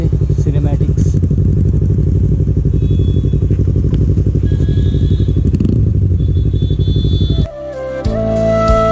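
A Yamaha R3 motorcycle rides along with a steady, loud engine drone throughout, ending in a sharp shift where the engine note changes and revs higher near the close.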